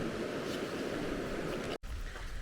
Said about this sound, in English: So it's the first day it's raining on trail